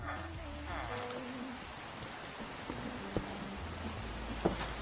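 Steady rain patters in a modded video game, a soft continuous hiss mixed with faint game music and a couple of sharp clicks, with no talking over it.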